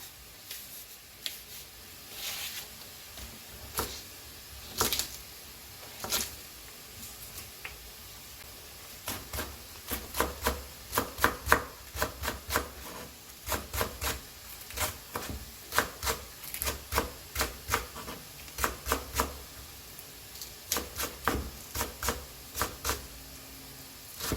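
A knife chops scallion and perilla leaves on a cutting board for a spicy cod stew, with quick, uneven bursts of sharp taps that grow denser and more rhythmic toward the end, close and fairly quiet.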